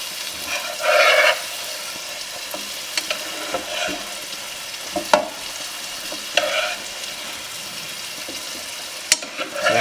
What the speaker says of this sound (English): Spoon all that oil and butter back.